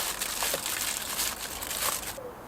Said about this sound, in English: And then I always put a bit of tin foil around the plastic